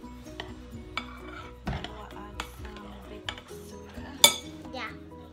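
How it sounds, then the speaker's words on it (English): Fluffy slime being mixed in a bowl, with scattered clinks and taps of a utensil against the bowl, fairly quiet and irregular, over background hum. "Just keep on mixing."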